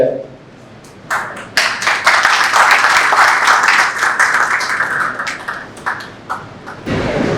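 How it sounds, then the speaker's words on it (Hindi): Loud applause from the audience at a housing society redevelopment expert event in India, welcoming a senior industry figure: a quiet start, then sharp clapping that swells into a dense, sustained round, briefly easing before picking up again at the end. "दोस्तों जोरदार ताली"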